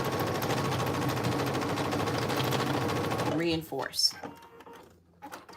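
A sewing machine stitches a seam allowance on homemade cargo pants, running as a fast steady mechanical chatter for about three seconds before stopping, then a few light clicks and handling sounds as a voice speaks briefly.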